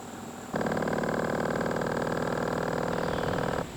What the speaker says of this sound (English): If you press that button and you get that purring noise,